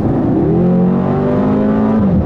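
2012 BMW X6M engine and exhaust revving loud and close, a sustained throaty drone whose pitch sweeps up and then drops back as the revs rise and fall.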